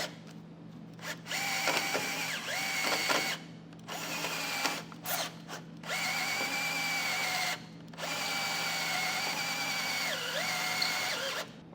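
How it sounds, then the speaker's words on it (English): A power drill with a step bit boring a hole in metal on a 2017 Ford Explorer, whining in several steady bursts with short pauses between them, close and alone. "Once I got that hole drilled out"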